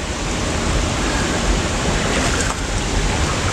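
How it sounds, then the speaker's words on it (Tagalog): Ambon Ambon Falls roaring continuously, a loud, dense rush of falling water that fills the whole space without a break. "Yan yung falls, oh."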